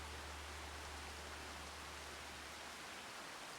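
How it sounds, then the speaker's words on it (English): Steady, even rain hiss in the farming video game Farming Simulator 25, a continuous dense wash of noise with no individual drops or pauses. "It's raining."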